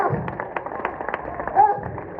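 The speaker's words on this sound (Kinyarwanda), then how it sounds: "Kubitira Imana amashyi menshi cyane" A church congregation clapping together in praise of God: muffled, fairly rhythmic claps from a crowd under a voice and a low room rumble.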